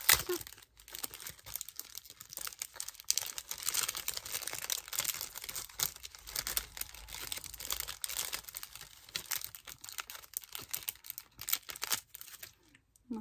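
Scrapbooking stickers are handled and peeled from their sheet, a close series of soft crinkles, light tearing and tapping sounds in an irregular rhythm, with quiet talking at times.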